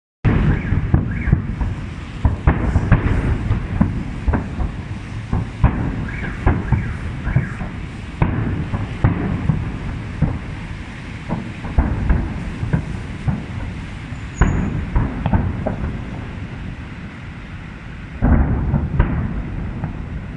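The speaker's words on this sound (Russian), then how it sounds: "такой, ребята, салют крутой." A fireworks display near a home by Chernyshevskaya metro in Saint Petersburg sets off repeated booming bursts and crackles in irregular succession, heavy and rumbling at a middle distance, with no voices.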